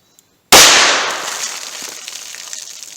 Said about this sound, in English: we're going to see what we get through the 4-inch barrel, 90 grain bullet, through the ballistic pack